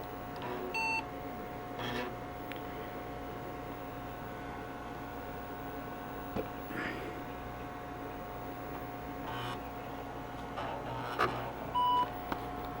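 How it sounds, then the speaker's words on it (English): An IBM Portable 5155 computer gives short, faint electronic startup beeps, a few isolated tones spaced apart over a quiet background hum. "their beeps sound different."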